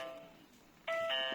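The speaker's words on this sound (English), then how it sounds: "The hash key is the doorbell." A Tuya face ID lever-handle smart lock sounds its doorbell chime when the hash key is pressed: a clear electronic two-tone ding-dong, loud and close, following a faint fading tone.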